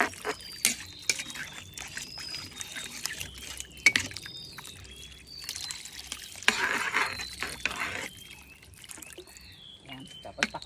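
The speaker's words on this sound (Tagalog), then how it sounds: "Lagyan na natin siya ng tubig." Water is poured into a cooking pot of salmon head sinigang, a soft, splashing trickle in the foreground, with intermittent clinks and small kitchen knocks around it.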